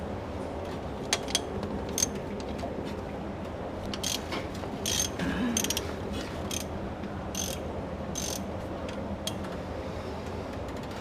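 A ratchet wrench fitted with a 15 mm Snap-on socket loosens a bolt while an engine is pulled from a first-generation Dodge crew cab pickup, giving rapid clicking pawl runs in several bursts with metallic clinks, close and clear, with no talking.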